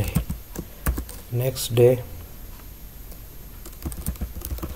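Typing an SQL query on a computer keyboard, scattered clicks and short bursts of key taps near and clear, with someone speaking between them.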